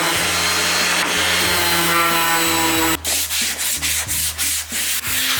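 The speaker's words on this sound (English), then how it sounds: "we can get this sanded smooth. Do the old 220 pad on there." A power sander with a 220 grit pad buzzes loudly against plywood, first a continuous grind, then broken into rhythmic pulses as it moves in strokes.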